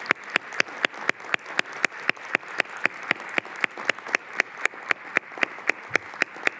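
Applause rings out in a room at a law school commencement ceremony, sharp, evenly spaced claps in a steady rhythm for several seconds, quite close, with no talking over them.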